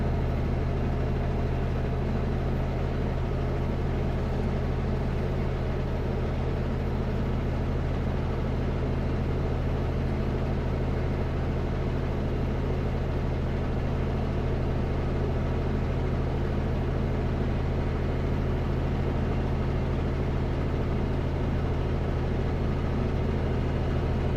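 Truck engine cruising in 12th gear on Highway 97C near Merritt, BC, heard from the cab as a steady low drone and rumble with constant road noise, unchanging and continuous throughout.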